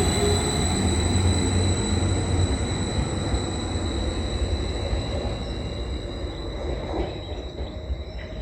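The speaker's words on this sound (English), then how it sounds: "So let's go get the train." A train rumbles steadily close by as it arrives at March station, with a continuous rolling roar and a high, thin squeal of wheels on the rails.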